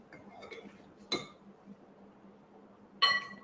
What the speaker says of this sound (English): remove this bowl out the KitchenAid